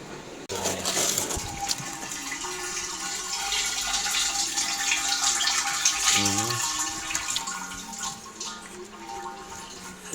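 Water rushes and splashes steadily while a diesel particulate filter from a Passat or Skoda is flushed out, with a continuous gushing flow throughout and faint background music.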